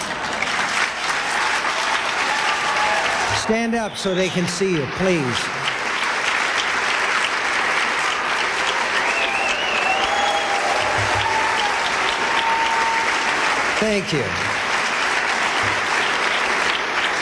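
A large audience at a National Book Awards ceremony keeps up loud, continuous applause throughout, while someone speaks briefly over the clapping near the start and again toward the end.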